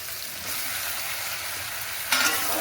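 Vegetables with dried shrimp and chopped malabar spinach stir-fry in hot oil, producing a continuous bright sizzle with a sharper hiss burst near the end as more goes into the pan.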